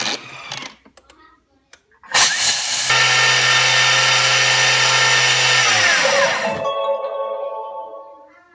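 Thermomix TM5 at speed 9 mills rice into flour, a loud, high-pitched motor whir that runs steadily for several seconds then winds down, preceded by a few clicks and brief handling noises.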